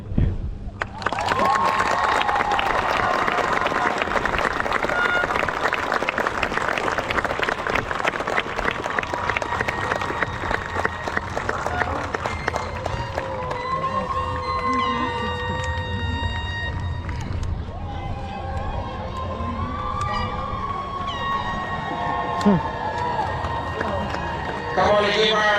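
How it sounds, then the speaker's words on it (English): An audience at a Sebastian River High School graduation in Florida breaks into loud, sustained applause that slowly thins out, leaving crowd murmur and a voice speaking over the hall. "Come on and give our valedictorian and salutatorian another round of applause."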